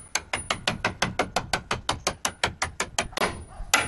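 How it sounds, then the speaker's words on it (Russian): A sledgehammer drives 12 mm steel rebar into the ground in a fast, even series of about seventeen sharp, ringing metallic blows, loud and close, with a brief pause near the end. "Вот 12 арматура, вот кувалда."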